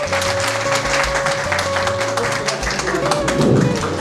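An audience breaks into steady applause to welcome a woman guest at a local function, the clapping continuous and close, with a faint tonal hum and background chatter underneath.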